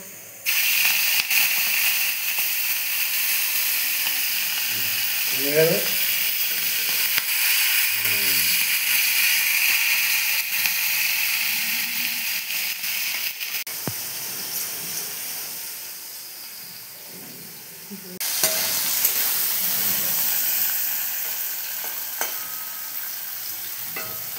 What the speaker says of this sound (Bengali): চিংড়ি মাছগুলো এই তেলে ভেজে নেব।